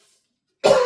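A single short, loud cough bursts out near the end after near silence, from someone talking about a Wolverhampton band.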